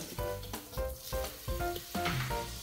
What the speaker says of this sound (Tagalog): Nagpainit na tayo ng kawali. Ilagay natin itong butter.